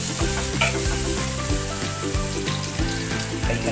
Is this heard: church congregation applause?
no